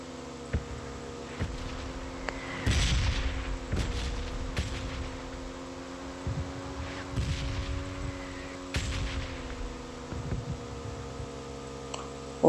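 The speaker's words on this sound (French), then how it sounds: "Je sais pas c'est quoi qui tombe, c'est des grenades, des bombes." Bombs and grenades falling and exploding in the battle royale game PUBG, a series of deep booming blasts and sharp cracks spaced a second or two apart over a steady engine hum.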